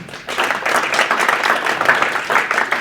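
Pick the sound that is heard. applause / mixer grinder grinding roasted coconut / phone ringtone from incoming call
applause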